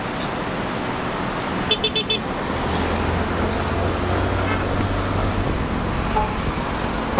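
Busy traffic rumbles along Commonwealth Road in Manila, a continuous loud roadway drone with a short burst of car horn toots early on and a heavier vehicle passing close through the middle.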